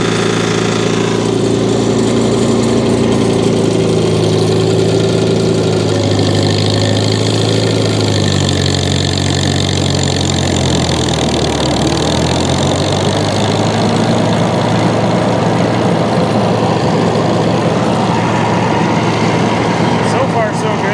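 A 1952 Farmall Cub tractor engine runs loudly up close with its mower deck PTO engaged, a rough mid-pitched engine drone that dips and shifts in load partway through, with a voice at times.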